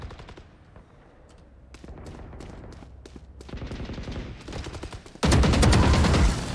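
Gunfire in the Valorant game: scattered shots through the first half, then a dense burst of loud automatic fire near the end, close and sharp with little talk.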